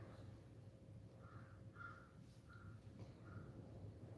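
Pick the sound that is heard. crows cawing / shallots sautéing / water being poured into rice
crows cawing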